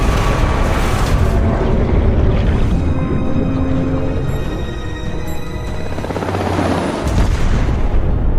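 Helicopter rotors throb beneath heavy booms and bursts of gunfire in a helicopter attack scene from the film The Expendables 4, loud and chaotic, with the rotor drone persisting throughout.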